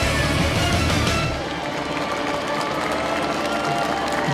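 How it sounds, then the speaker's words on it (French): Steady applause from a crowd at an outdoor ceremony for the 75th anniversary of the D-Day landings, dense clapping that continues throughout and eases slightly after the first second. "Vous pouvez les applaudir très fort."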